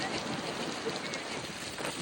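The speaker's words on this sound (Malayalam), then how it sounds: "അസല് കാറ്റ്." Strong wind buffeting the open shore at Kozhikode beach, a dense steady roar that fills the whole clip without letting up.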